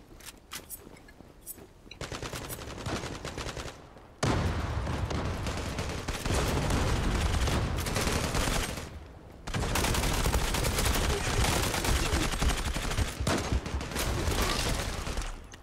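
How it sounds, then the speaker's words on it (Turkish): Sustained automatic gunfire from a video game weapon, dense rapid bursts filling most of the stretch with brief gaps between volleys, loud and close, with no talking. "Buna sıkıyorum direkt öldürüyor."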